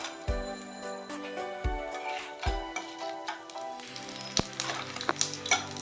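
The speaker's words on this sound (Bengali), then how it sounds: "এখন আমি তেলের উপরে দিয়ে দিচ্ছি তেজপাতা, শুকনো লঙ্কা, দারচিনি" Bay leaf, dried chili, cinnamon and cardamom drop into hot oil in a kadai for a Bengali egg tarka. Several soft thuds are followed by a lively crackling sizzle with scattered sharp pops and taps.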